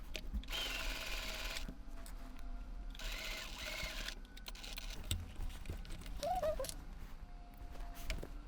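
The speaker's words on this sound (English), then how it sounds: "line up my fold line with the pin marking. Oop. And sew along there, nice and easy." A sewing machine runs in short bursts while stitching cotton yukata fabric along a pressed fold line, a quiet mechanical whir with fine rapid ticking, stopping and restarting in a soft indoor room.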